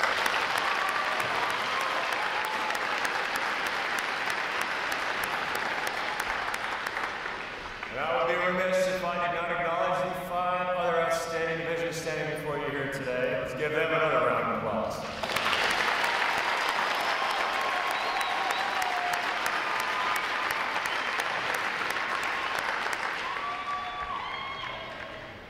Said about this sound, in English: Let's give them a quick round of applause.